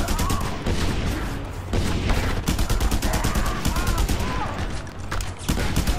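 Dense, continuous gunfire from the video game Just Cause 2, rapid overlapping shots and bursts forming a loud fusillade throughout, with a brief dip before resuming at full intensity.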